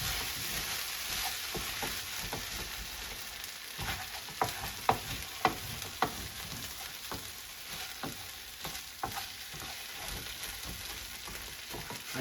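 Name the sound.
mixing hash with butter in a pan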